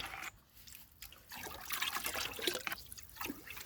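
Liquid organic farm input is poured into a container and stirred, giving soft trickling and sloshing water sounds, faint and close with brief pauses.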